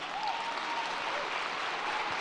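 Audience applause fills a convention hall during a Star Wars Celebration panel on the making of Andor, a steady, dense wash of clapping from a large crowd, loud and continuous throughout with no break.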